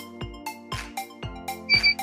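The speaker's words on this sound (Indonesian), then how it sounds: "Saat terkoneksi maka nanti akan berbunyi short beep." A short electronic beep sounds as a Bluetooth app connects, a brief tonal chirp near the end, amid a steady series of sharp, regularly spaced clicks.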